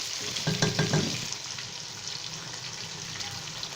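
Chicken and onions frying in a pan for Lahori chicken pulao as green chilies go in, a steady close sizzle with a brief burst of clattering near the start, then even frying, no voices.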